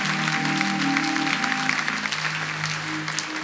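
A church congregation applauds to acclaim Jesus with sustained, dense clapping, while a sustained tone, likely an organ or keyboard, plays underneath.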